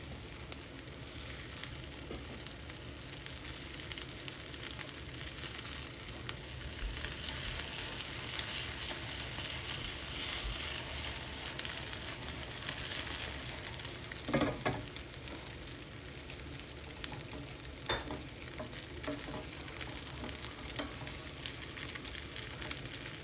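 Egg fried pizza frying in a lot of oil, a quiet, steady crackling sizzle lasting throughout with occasional faint stirring scrapes, and no voices.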